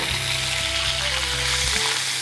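Prawns, about 100 grams, frying and sizzling in hot oil in a pan for a biryani, a steady close crackle with no talking.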